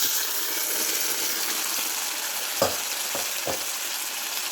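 Boiled potatoes are stirred into a coconut-milk potato and carrot stew frying in a pan, with a steady loud sizzle throughout and a few soft spoon scrapes near the end, close up and without speech.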